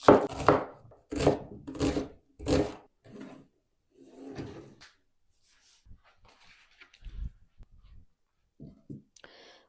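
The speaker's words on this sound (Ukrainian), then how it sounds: "Цибулю наріжу півкільцями або ж кільцями, кому як подобається." Knife chopping onion into half rings on a cutting board, with loud, closely spaced strokes in quick bursts at first, then softer, scattered taps and scraping as the cut pieces are moved around.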